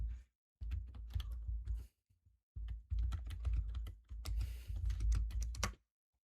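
Close, fast clatter of keys on a computer keyboard during a Paper Mario 64 game stream, in two dense bursts separated by a short pause.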